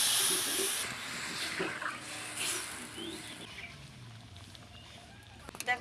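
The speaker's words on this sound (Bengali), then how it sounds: "ডালটা ঢেলে দিচ্ছি" Red lentils hit hot oil in a pan with onion greens and tomato, a loud hissing sizzle that bursts up at first then gradually settles, while a voice talks over it.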